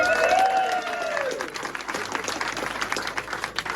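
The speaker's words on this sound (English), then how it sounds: "Let's hear it for North Bladon." A crowd at a speedway press conference breaks into applause and cheers, with a whistle at the start, then clapping continues steadily at moderate volume.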